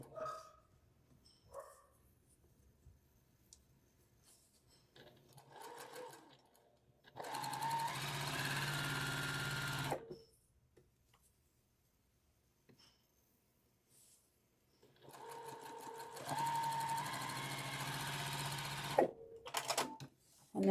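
A sewing machine chain-pieces quilt patches in two long, steady runs of several seconds each, separated by a quiet stretch with faint handling noises.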